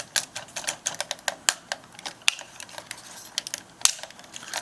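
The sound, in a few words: clicking joints of an action figure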